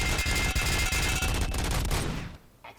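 Heavy machine gun fire in a video game, a continuous fast, loud stream of shots that cuts off after about two seconds, followed by quiet.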